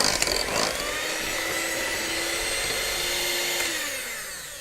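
An electric mixer beats a chocolate biscuit dough with melted chocolate, a loud whirring motor drone that rattles at the start, holds steady, then winds down near the end, with no talking.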